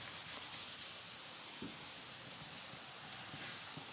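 A rag rubs Mothers polish onto a foggy car headlight, a soft continuous scrubbing hiss with faint rhythmic strokes, close and quiet with no talking.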